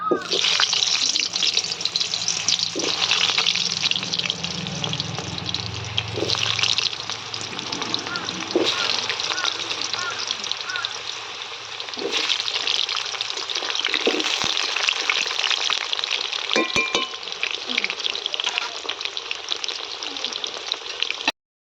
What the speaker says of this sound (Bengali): আলুগুলো ভেজে নেব আগে।